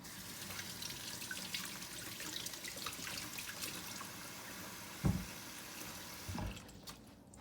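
Water from a running tap splashes steadily over a refurbished Dovo Barbarosa straight razor and a coticule hone as they are rinsed off, a continuous close rush with a couple of louder splashes near the end before it cuts off.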